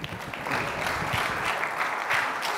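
Audience applause fills the room after a contestant's tablet screen-protector pitch at a live event, steady dense clapping throughout with a few scattered cheers.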